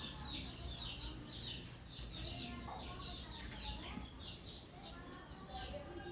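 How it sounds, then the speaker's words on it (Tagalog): Birds chirping and calling repeatedly in the background, with a rooster-like clucking among them, fairly faint over a steady low ambient hum. "Naririnig mo yung huni ng ibon."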